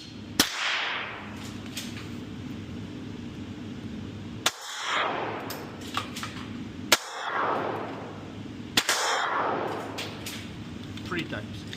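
An airsoft toy PPK pistol fires suppressed-style shots, four sharp snapping cracks spaced a few seconds apart, each trailing a brief hiss, with a low steady hum underneath and no talking.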